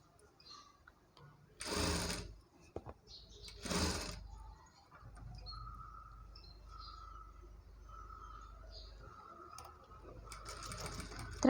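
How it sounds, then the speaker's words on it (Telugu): A sewing machine stitches piping on a Punjabi dress top in short steady runs with pauses between them, fairly quiet and close, broken by a couple of louder rustling bursts. "ఇప్పుడు మీ ముందే స్టిచ్ చేస్తున్నాను కదా"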